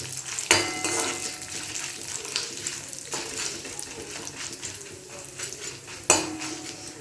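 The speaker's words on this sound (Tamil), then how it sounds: "இதை கொஞ்சம் தவக்க வறுத்துண்டு அப்புறம் தேங்காயும் போட்டு வறுக்கணும்." Ingredients are stirred and roasted with coconut in a pan for a traditional Tamil kuzhambu. A soft continuous sizzle sits under scraping spoon strokes, with a few sharper knocks against the pan.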